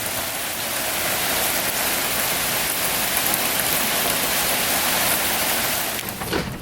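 Steady, dense rain pours down continuously, a constant hiss of drops hitting surfaces without any pauses.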